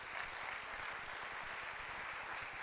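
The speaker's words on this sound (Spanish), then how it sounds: "Denle un fuerte aplauso al Señor si usted lo cree" A church congregation applauds the Lord with steady, dense clapping throughout, a fairly distant and even wash of many hands with no pauses.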